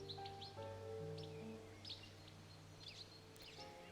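Birdsong in a role-play game's ambience: a steady run of bright chirps and short tweets over a sustained droning music bed, moderately loud and continuous.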